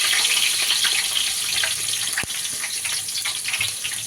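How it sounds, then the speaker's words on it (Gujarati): Whole cumin seeds and curry leaves sizzle in hot oil for a Gujarati murmura poha chevdo, a steady crackling hiss close by with a brief sharp pop midway. "આપણે આખું જીરું અને મીઠા લીમડાથી વઘાર કરવાનો છે."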